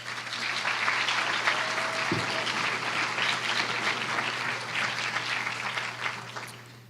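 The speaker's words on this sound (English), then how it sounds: "So let's give them all one more big round of applause." An audience in a hall claps steadily and loudly for judges and a tabulator at a Distinguished Young Women scholarship program, a dense sustained ovation lasting several seconds before tapering off.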